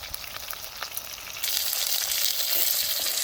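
Stuffed bell peppers frying in oil on a flat griddle pan, a continuous close crackling sizzle that swells louder partway through and keeps going steadily, with no talking.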